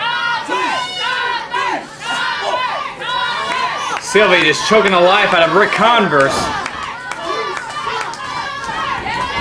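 Wrestling crowd at a CWF Mid-Atlantic event, cheering and shouting loudly and continuously in support of Ric Converse beneath an excited commentator talking over the noise.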